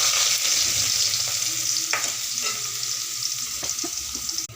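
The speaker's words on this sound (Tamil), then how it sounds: "பெரிய வெங்காயத்தை வந்து நல்லா சிறுசாக வெட்டி அது கூட கருவேப்பிலை தலையும் போடுறோம்" Chopped onion and curry leaves fry in hot oil, a steady close sizzling hiss with light stirring scrapes and a few small pops throughout, no talking.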